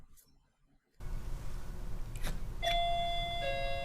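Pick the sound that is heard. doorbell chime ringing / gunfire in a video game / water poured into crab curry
doorbell chime ringing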